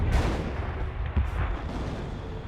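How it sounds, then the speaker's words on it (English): Artillery fire from a 25-pounder gun in the Company of Heroes video game, heard as a couple of deep, rumbling booms over a dense wash of distant battle noise, with no talk. "here comes 25-pounder shot as well"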